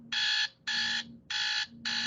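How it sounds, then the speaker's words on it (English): A quiz buzzer in a classroom sounds four loud, steady electronic bursts of about half a second each, separated by short gaps, with no talking. "Here's my buzzer."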